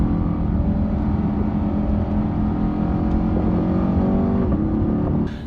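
A Corvette C8 driving laps at a motorsport park in Atlanta, its engine droning steadily and loud throughout with a slight shift in pitch near the end.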